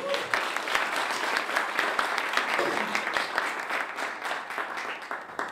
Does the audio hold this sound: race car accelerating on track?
no